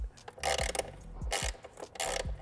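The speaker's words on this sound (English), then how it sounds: "You'll just need a T25 Torx bit and just loosen it." Ratcheting on a T25 Torx bit loosening the oil filter housing of an Audi SQ8, quiet close-up clicking pawl strokes repeated in three short bursts with brief pauses between.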